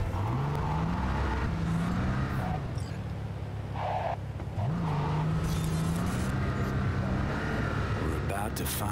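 Car driving in Cyberpunk 2077 on wet roads while chasing a van, a steady engine drone with rising and falling revs under almost constant talk.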